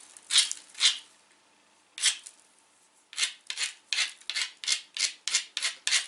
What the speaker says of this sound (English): I'm going to grind that exact same way, because it brings down that edge